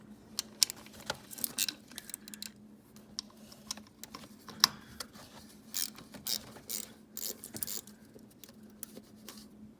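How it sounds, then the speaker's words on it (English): A small ratchet clicks in close, uneven bursts of light metallic ticks while bolts are broken loose on a C5 Corvette, with quieter pauses between the flurries of strokes. "I'm just gonna break all these bolts loose with my little ratchet"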